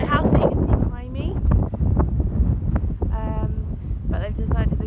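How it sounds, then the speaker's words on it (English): Strong gusts at Cape Leeuwin buffet the microphone with constant roaring wind noise, while people talk intermittently over the blustery background. "It's very windy today."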